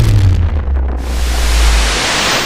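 A deep, rumbling explosion sound effect of a magical dimensional seal bursting, with a loud low boom at the start that swells into a sustained roaring wash of noise.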